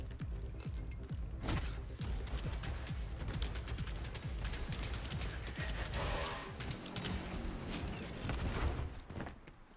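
Explosions and combat clatter from the video game Atomic Heart, a dense, loud, continuous mix of blasts, impacts and mechanical noise running throughout with no clear gaps.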